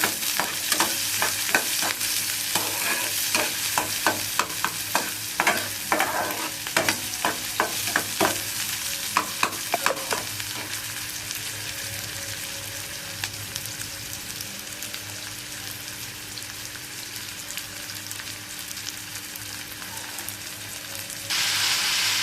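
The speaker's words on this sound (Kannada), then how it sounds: "ಟೊಮೆಟೊ ಆ್ಯಂಡ್ ಗ್ರೀನ್ ಚಿಲ್ಲಿ ನೀವೇನು ಕಟ್ ಮಾಡಿ ಇಟ್ಕೊಂಡಿರ್ತೀರ ಅದನ್ನು ಹಾಕಿ ಚೆನ್ನಾಗಿ ಮಿಕ್ಸ್ ಮಾಡ್ಕೋಬೇಕಾಗುತ್ತೆ" Tomato and green chilli frying for chicken masala, stirred in a pan: a run of sharp utensil scrapes and clicks over the first ten seconds, then a steady close sizzle with no voice.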